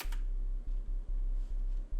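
A very quiet, low tone from an initialized synthesizer patch pulses softly in short repeated notes, barely audible and steady, with no voices.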